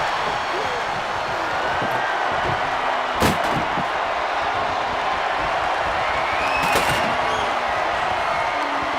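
A backbreaker slam in the WWE 2K25 wrestling video game lands with a sharp impact thud, followed by a second hit, over a steady roar of arena crowd noise.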